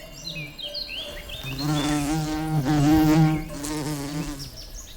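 Bumblebees buzz close by while feeding on wolfsbane flower nectar. A rich droning hum rises and falls as they move among the blooms over about five seconds, with faint birdsong in the background.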